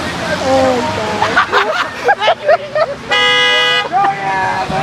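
Car horns honk loudly and close by in a series of short toots, ending in one long sustained blast, with excited voices talking and shouting between the honks.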